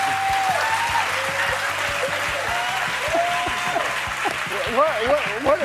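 A talk show studio audience claps steadily and loudly while voices talk over the applause throughout.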